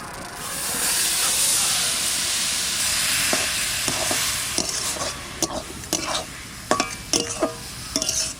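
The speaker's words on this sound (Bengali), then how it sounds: "এবার কড়াই চাপা দিচ্ছি নারকেলের পুরটা আগে করার জন্য এই বাটার নারকেল দিয়ে দিচ্ছি" Grated coconut stirred in a hot wok over a home stove, a steady close sizzle and hiss with spatula scrapes growing into quick, irregular clacks toward the end.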